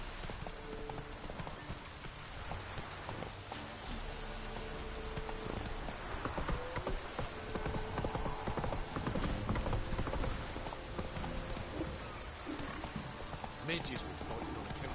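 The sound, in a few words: Roach the horse's hooves clip-clopping in The Witcher 3 video game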